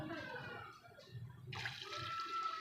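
Water pours into a bowl of tamarind and plum pulp while sharbat is made, a soft splashing trickle that swells into a brighter, fuller gush midway, close and fairly quiet, with no talking.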